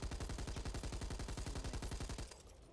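Gunfire in the zombie shooter Back 4 Blood: a rapid, evenly spaced burst of automatic shots, loud and continuous for about two seconds before cutting off into a fading tail.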